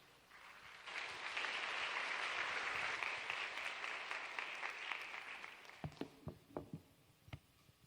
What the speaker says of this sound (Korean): 목사님 나오실 때 큰 환영의 박수 부탁드립니다.